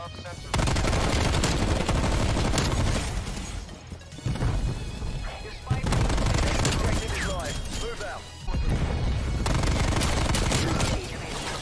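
Rapid, dense automatic gunfire in Call of Duty: Cold War, loud and sustained in long bursts with short breaks between them, while a player talks over it.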